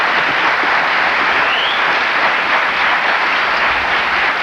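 Studio audience on a 1992 late-night talk show applauding steadily, a dense continuous wash of clapping that holds loud and even for the whole stretch with no voices over it.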